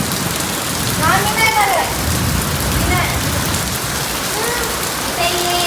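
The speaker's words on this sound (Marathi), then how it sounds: "पहिला पाऊस आहे भिजायचा की गपचूप घरात बसायचा" Steady first monsoon rain pattering on a surface, with voices chattering in the background throughout.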